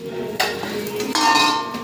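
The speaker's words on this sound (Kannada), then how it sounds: "ನಮ್ಮವ ತತ್ತಿ ಹುರ್ತಾ ಇದ್ದಾನೆ" Eggs for an omelette frying in a pan over a gas flame, with sizzling, a few scraping stir strokes and utensil clinks, close and fairly loud.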